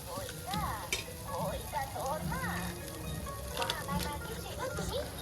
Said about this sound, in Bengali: এবার কিন্তু কষিয়ে নেব ভালো করে।